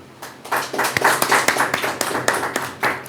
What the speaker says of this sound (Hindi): तो आइए हम परमेश्वर के लिए जोरदार ताली बजाते हैं।